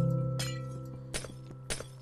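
Glowstone blocks breaking in Minecraft give three crisp, glassy shattering bursts spaced about half a second apart, heard over a steady low in-game drone.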